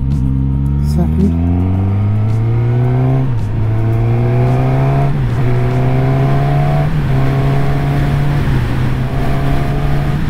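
A Suzuki Katana motorcycle with a long-stroke 1000cc K5 engine accelerates along a country road, its loud, close engine note climbing through several gear changes in a steady repeating rise-and-drop pattern.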